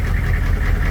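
A military HMMWV M1097R1 bought at auction idles at close range, giving a steady low diesel rumble with a faint knocking pulse throughout.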